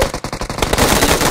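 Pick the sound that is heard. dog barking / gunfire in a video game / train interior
gunfire in a video game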